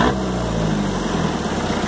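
An Isuzu C223 turbo diesel engine with an intercooler and turned-up injection pump runs close and loud. It holds a steady rough drone through a short burst, with no talking.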